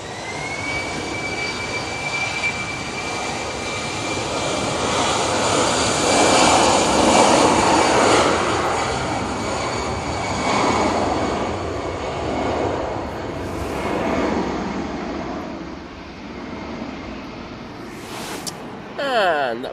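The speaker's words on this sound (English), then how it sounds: "that Brussels Airlines, can you imagine, is off to proper Brussels, not fake Brussels like Ryanair. Using the 319 for this one today." A Brussels Airlines Airbus A319 jet at windy Manchester Airport roars with a loud engine drone and a rising whine, and a voice talks now and then over it.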